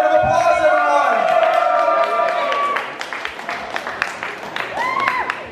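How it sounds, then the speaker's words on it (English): A crowd at a live show applauds and cheers for performer 4AM, with clapping and whoops over a loud, shouting voice, then thinning into scattered claps near the end. "Give a round of applause, everyone."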